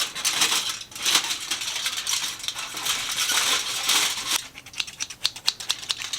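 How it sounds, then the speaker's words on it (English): Scissors snip repeatedly through aluminum foil, a run of sharp crinkly cuts and rustles close by, with a steadier stretch of crackling followed by quicker distinct snips near the end. "Just going to cut little slices into foil."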